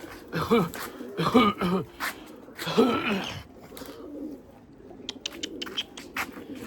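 White breeding pigeons coo in a loft, soft throaty calls in several bursts close by, followed by lighter chirps and scattered clicks of movement.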